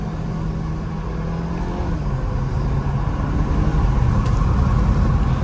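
A Volkswagen car in sport mode, heard from inside as a steady, loud engine rumble and whir that builds gradually in level, with no clear distinct shift event standing out.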